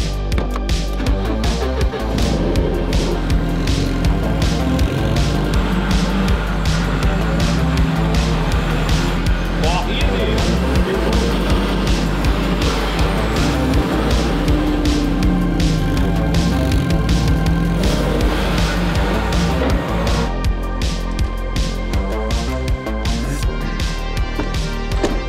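A Mercedes 190E Evo 1 Kompressor runs hard on a dynamometer, its engine revving loud and close in sustained rising pulls with a supercharged drone, the roar filling the whole stretch.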